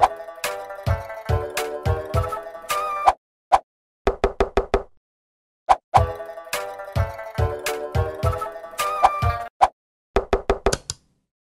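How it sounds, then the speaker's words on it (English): Rapid bursts of hollow knocks on a head, delivered in quick rhythmic clusters of four to eight taps separated by short silences, crisp and close with no voices. "Knock yourself on the head."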